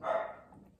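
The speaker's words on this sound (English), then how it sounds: "Sorry if you can hear dogs barking." A single short bark from one of three King Charles Cavalier dogs in a backyard, a brief muffled yap heard at a moderate distance and fading quickly.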